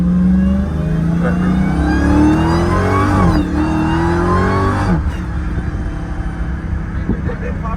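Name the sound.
Dodge Demon car engine revving as it pops a wheelie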